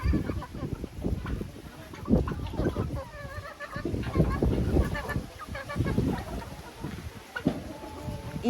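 Chickens and turkeys cluck and call on a village farm in Ukraine, a busy flock close by making overlapping clucks and gobbles while a person talks over them.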